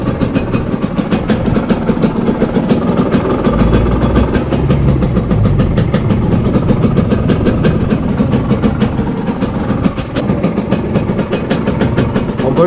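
A Kawasaki KMX motorcycle engine runs steadily, being worked on at home for an overheating problem; the motor sits at a constant, loud, rattling idle throughout with no talk.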